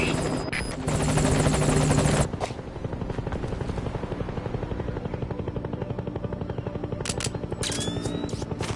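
An enemy helicopter in a video game cinematic roars loud and close with steady rotor chop, swelling at the start and then settling into a continuous throb, with sharp gunfire-like cracks near the end.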